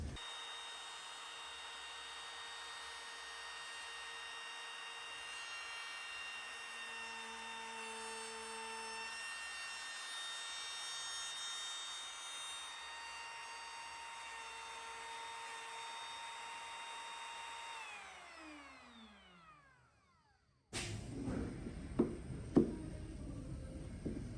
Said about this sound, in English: we're going to run the router through again and jam it all the way to the ends